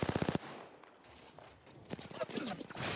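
Gunfire in Apex Legends: a fast, loud burst of shots at the start, then scattered further shots mixed with a voice speaking over the action.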